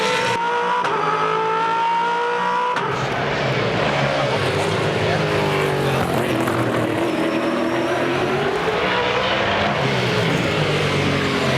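A V8 Supercar race car runs hard on a circuit, its engine loud and droning with shifting pitch, while a commentator talks over it.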